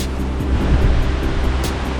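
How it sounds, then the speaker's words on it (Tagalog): The strong current of the Kalong River roars steadily and close, a dense churning wash with rumbling low surges and no voices. "Malakas yung agos."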